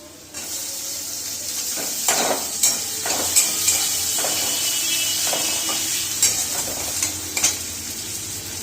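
Tomato dropped into ginger frying in a pan for egg chops, giving a steady close sizzle with a few sharp spatula scrapes and clinks as it is stirred, no voices.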